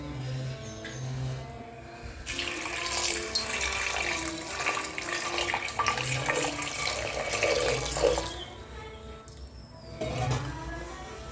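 Water pours steadily into a cooking pot holding potatoes and green chilies, a continuous rushing splash that lasts several seconds. Quieter kitchen sounds come before and after it.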